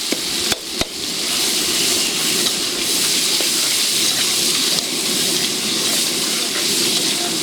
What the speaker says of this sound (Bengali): এবার দিচ্ছে কুচি পেঁয়াজ, এবার মশলাটাকে ভালো করে ভেজে নেওয়া হবে।